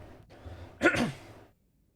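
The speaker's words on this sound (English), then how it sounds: "I had to clear my throat." A single short throat clearing, a close, brief rasping burst after a quiet breath.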